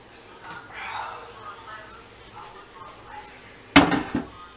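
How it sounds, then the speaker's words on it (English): A slow cooker pot is handled in a kitchen, with soft background shuffling and a person speaking, then one sharp, loud clank of the pot near the end, followed by a short rattle. "I got my pot for my slow cooker."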